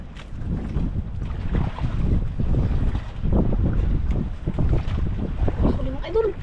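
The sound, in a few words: strong wind at sea on a boat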